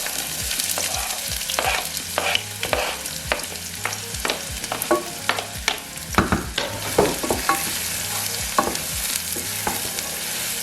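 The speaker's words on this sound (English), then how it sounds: "The oil is heated up now, so I'm going to add my onions." Chopped onions frying in heated oil for Ethiopian shiro chickpea stew, a steady close sizzle broken by repeated stirring scrapes and taps, with no voices.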